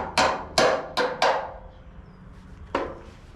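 Five sharp hammer blows ring out close by while routing a brake line on a 1955 car, four in quick succession and one more after a short pause.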